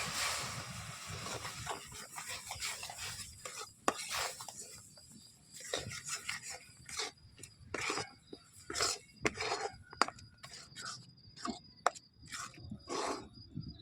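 A pot of water with rice flour added bit by bit for daila pitha dough gets stirred, giving faint, irregular scraping and clinking taps at an uneven pace, fairly quiet and close.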